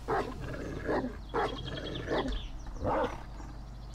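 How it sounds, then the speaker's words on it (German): A zombie dog in the video game 7 Days to Die lets out four rough growling snarls at regular intervals over a low steady background hum. "Oder das ist einer von diesen Zombie-Hunden"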